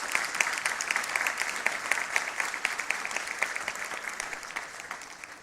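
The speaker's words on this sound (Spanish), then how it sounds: "Se merece un aplauso al Señor, ¿cierto?" A church congregation applauds during a sermon: steady, dense clapping from many hands throughout, fairly close and even, with no talk over it.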